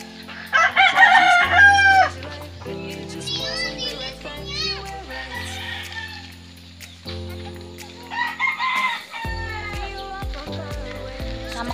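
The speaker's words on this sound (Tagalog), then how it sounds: "Manok." A rooster crows a couple of times in the near distance on a farm, with children's voices and chatter nearby throughout.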